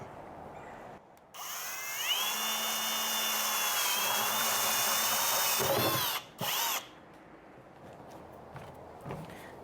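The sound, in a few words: drilling holes in plastic buckets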